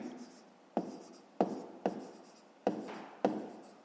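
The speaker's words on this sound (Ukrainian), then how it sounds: "Ну, а тепер записуємо відповідь, пишемо відповідь." Pen writing an answer to a fifth-grade maths exercise on paper, with close scratching strokes and six sharp taps as the pen sets down, in a quiet room.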